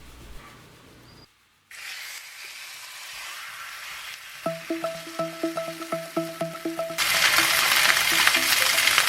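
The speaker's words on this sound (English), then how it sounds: "Now this roast is just under 3 pounds, and I'm searing it on a medium heat." A roast of just under three pounds sears in a pan over medium heat, a steady close sizzle that grows louder and brighter toward the end, with a run of rhythmic tonal clicks partway through.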